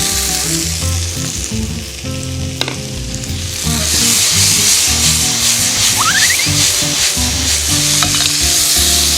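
Noodles for a spicy carbonara are stir-fried in a hot pan, giving a loud, steady sizzle with scraping and stirring noises throughout and no voices.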